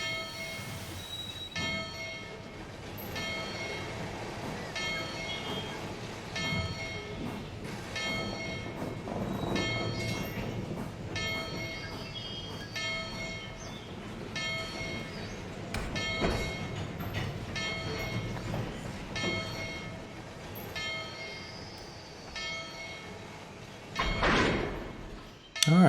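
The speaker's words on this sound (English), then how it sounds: "couple onto those boxcars." A train coupling onto boxcars in the Railroader video game: a locomotive bell rings steadily in a long rhythmic series over low rumbling, then a sharp metallic clank of couplers joining near the end.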